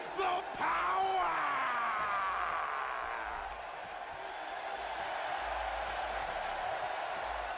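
Crowd in the WWE 2K18 wrestling video game applauding and cheering in an arena, a steady, moderately distant roar with a brief yell early on that stays constant through the rest.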